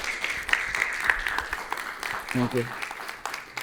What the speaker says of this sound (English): can we just get another big round of applause for all of our speakers here today?